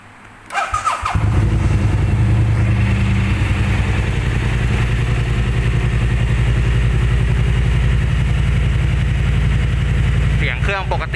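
A 2019 BMW C650 Sport ABS scooter with a carbon exhaust cranks and fires after a brief quiet moment, then settles into a loud, steady, close idle that runs to the end.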